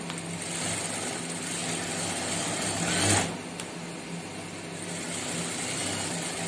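A steady, close whir of a sewing machine stitching a men's shirt collar runs throughout, with a brief louder bump midway and no speech.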